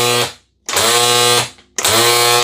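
Bump feed on a WORX 20V cordless string trimmer head, three bursts of loud whirring motor noise separated by short gaps, close up and with no talking.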